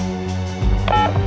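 A telephone keypad beeps out dialing tones in an office scene of a crime drama, a short run of steady electronic tones, close and clear, with no talking.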